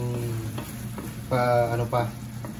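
Shrimp paste (alamang) sizzles loudly in hot oil in a pan, with steady frying crackle and bursts of louder sizzle as it is stirred, no talk over it.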